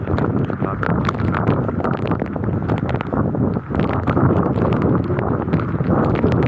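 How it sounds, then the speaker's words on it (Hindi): Strong, steady wind roars into the microphone with a dense wash of heavy rain in a village, a continuous loud stormy rush without pause. "तूफानी बारिश है जिसके कारण हवा बहुत तेज़ है"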